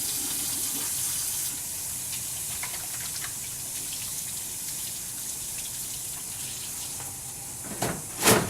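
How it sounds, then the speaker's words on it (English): A tap runs steadily while hands are washed at a clinical sink before patient care, making a soft, even water hiss throughout with faint splashes and a brief louder gush near the end. "I'm going to wash my hands."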